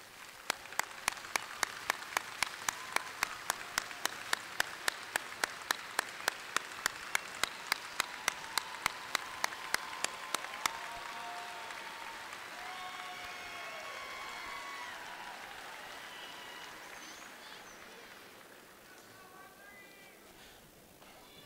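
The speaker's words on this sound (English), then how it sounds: "Will you join me in a round of applause for them?" Graduation commencement audience applauding steadily for the families of the summer and fall classes, a dense wash of clapping running throughout, with regular sharp clicks in the first half and a voice briefly heard over it.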